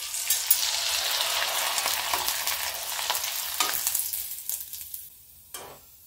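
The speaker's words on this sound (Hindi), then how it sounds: "अब थोड़ा सा डाल के टेस्ट कर लेते हैं। ये देखिए इसका मतलब ऑयल गर्म हो गया है।" Jalebi papad made from maida frying in hot oil, giving a continuous loud sizzle and bubbling that slowly thins out, with a few soft clinks of a utensil near the end.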